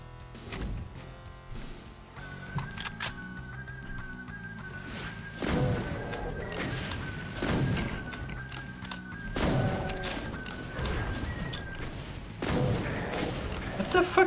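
Imps in the video game Doom firing on the player: repeated dull thumps and impact bursts land every couple of seconds over game music and ambience, fairly close and loud.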